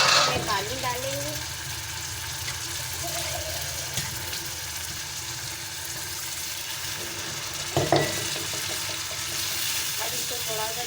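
Crushed tomatoes and water are added to a sizzling frying pan while making lauki chana dal, a continuous hiss of frying with a brief pour and splash, and a person talking over it.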